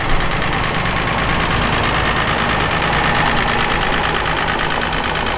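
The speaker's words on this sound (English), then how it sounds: "Here's a classic Farmall 706 from the mid-60s." A mid-1960s Farmall 706 tractor engine idling steadily, a dense continuous rumble held at an even level throughout, close by with no voices.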